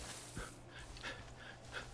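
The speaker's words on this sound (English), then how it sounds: "Good doggy, good dog." Rhythmic dog panting from a dog in the Far Cry 5 video game, a soft repeated breathy pulse, quiet and steady over a low background hum.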